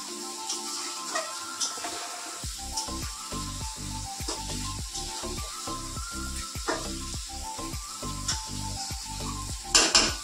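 Cauliflower stems cooking as a chachchari with slit green chili and panch phoron hiss loudly in a pan, with a steady run of repeated scraping strokes as they are stirred and turned.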